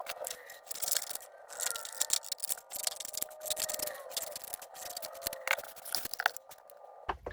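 Scissors snipping tiny inked paper sentiment labels, a close series of crisp little cuts and paper rustles in uneven bursts, with no talking.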